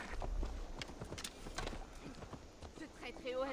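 Horse hooves clip-clop in Assassin's Creed Valhalla, a quick run of steady hoof beats close by, mixed with game sounds and someone talking over them.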